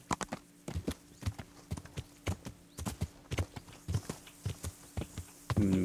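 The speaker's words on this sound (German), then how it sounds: "Gut, wir reiten mal querfeld ein." A horse gallops cross-country in Kingdom Come: Deliverance, its hooves thudding in a brisk, uneven clip-clop of many close, sharp strikes over a low background hum.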